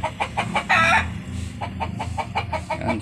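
Roosters and hens cluck close by in quick, rhythmic bursts, with one louder, drawn-out squawk near the start among the steady clucking.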